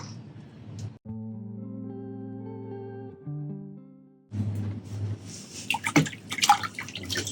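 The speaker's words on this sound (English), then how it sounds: "Just stir the water as you're adding the lye crystals." A metal spoon stirs lye crystals into water in a high-grade plastic container while tallow soap is being made. Sustained ringing tones give way to close, busy sloshing and clinking.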